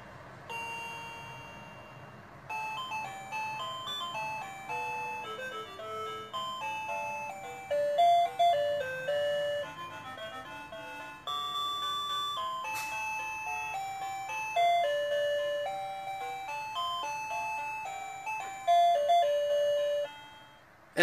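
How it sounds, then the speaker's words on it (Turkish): A digital illuminated wall clock plays its alarm as a long electronic chime melody of bright stepped notes, fairly loud and steady with no talk over it. "Alarmımız direkt çalıyor."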